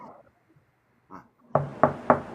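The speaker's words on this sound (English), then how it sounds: "He was knocking on wood lanes right there" Knocking on wooden bowling lanes: three sharp, evenly spaced knocks up close, preceded by a couple of fainter taps.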